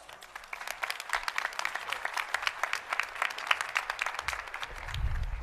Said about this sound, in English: with a warm Bipsy round of applause